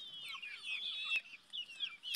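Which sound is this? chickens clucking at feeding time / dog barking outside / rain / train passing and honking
chickens clucking at feeding time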